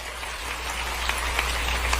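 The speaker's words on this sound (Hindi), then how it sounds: "ताली बजाओ बेटी के लिए।" An audience at a public speech clapping for a daughter who performed a dance, a dense continuous patter of applause over a low steady hum, even in level throughout.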